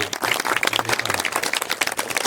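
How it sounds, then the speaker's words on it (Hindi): Group applause at an outdoor multilayer food forest training session in Surat, Gujarat, steady and fairly close, with a few faint voices mixed in. "इसके लिए तालियों से"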